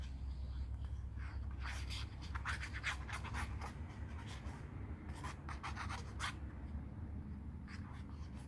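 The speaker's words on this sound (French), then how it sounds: "Et là, je vais mettre de la colle." Glue being applied by hand while assembling a scrapbook photo album, with repeated soft scratchy strokes and rubbing bursts, close and moderately quiet, alone without talk.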